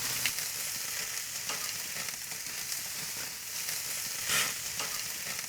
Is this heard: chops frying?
yes